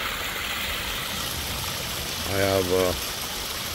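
Water from a Bakki shower pond filter splashes and trickles in a steady, continuous wash across an eco-system pond with a bog filter, while someone speaks briefly over it.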